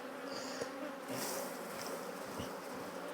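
Honey bees buzz in a dense, steady swarm close by as a beekeeper shakes several hive frames into a box, with a few soft knocks and scrapes of wood under the drone.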